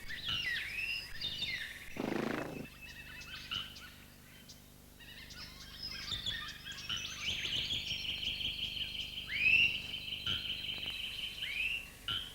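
Loud, strident calls of a small grass finch, with high thin notes and chirps repeating over about twelve seconds, plus a brief louder burst near the start and a sustained bright call toward the end.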